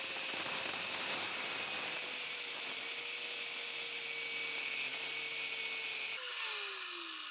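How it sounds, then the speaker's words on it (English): Angle grinder cutting through an Audi A3 8V front drop link, a loud sustained high-pitched whine that holds steady and then winds down at the end, with no voices. "I ended up having to cut it off with the angle grinder."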